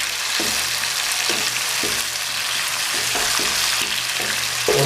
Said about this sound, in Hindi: और इसको मज़ीद 1 से 2 मिनट के लिए भून लेंगे ताकि हमारे टमाटर थोड़े से नरम हो जाएं।